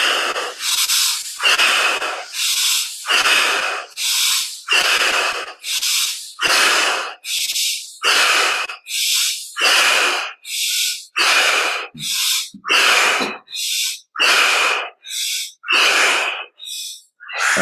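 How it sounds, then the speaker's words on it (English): Forceful deep breathing in a guided healing breathwork session, with about twenty loud, rhythmic breaths close to the mic, each a sharp airy rush separated by brief pauses, and no talk. "breathing deeply"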